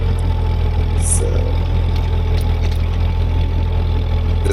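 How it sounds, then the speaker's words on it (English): Ford 8N tractor engine running steadily at idle, a continuous close low rumble with a faint ticking knock throughout, set outdoors in snow. "this tractor really runs well"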